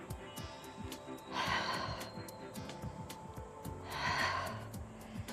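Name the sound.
deep breathing exhales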